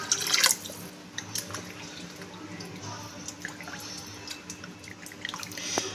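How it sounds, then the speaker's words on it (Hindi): Water trickles and splashes into a pot of cooking lentils, with small drips and liquid sloshing over a steady low background hum. "अब दाल डालने के बाद मैं इसमें पानी डाल रही हूँ।"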